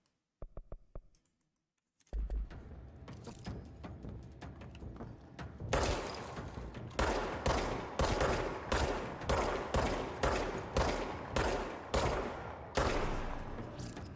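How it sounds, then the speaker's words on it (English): Gunfire in the video game Control, a few scattered clicks and shots, then a dense sustained burst of rapid, evenly repeated loud blasts after a short silence, with no voices. "That was amazing shooting on my end."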